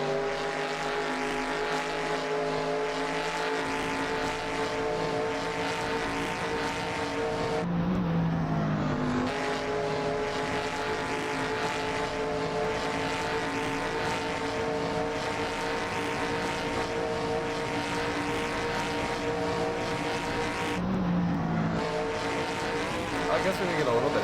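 A Shelby Daytona race car roars past on the Isle of Man TT course, heard from outside, its engine and exhaust loud and steady with rising and falling tones and a couple of brief shifts in pitch.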